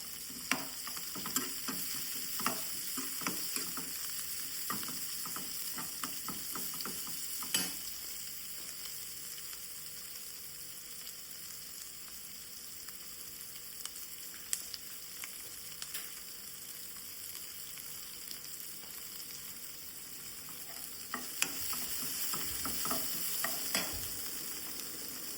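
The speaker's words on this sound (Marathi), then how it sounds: "कांदो भाजलो" Onion frying in a little oil in a pan for jackfruit bhaji, a soft continuous sizzle with scattered stirring clicks, denser near the start and toward the end, no voices.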